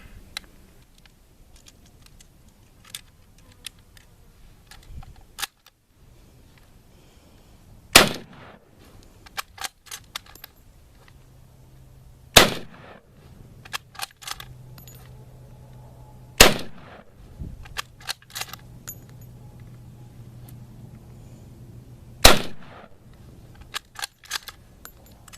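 Five sharp shots from a Model 1916 Berthier bolt-action carbine, fired outdoors at intervals of several seconds, each a loud crack standing alone, with quieter clicks and handling noises between them.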